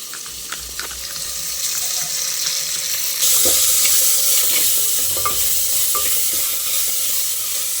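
Ginger garlic paste sizzling loudly in a hot pan for cauliflower kuzhambu, a steady close hiss with light scraping stirs throughout and a brief surge in the frying noise partway through, no voices.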